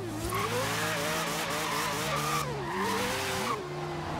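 A rotary Wankel-engined drift car in Forza Horizon 3 drones loudly and continuously, its engine pitch rising and dipping with throttle changes while tires squeal through the slide, with no talking.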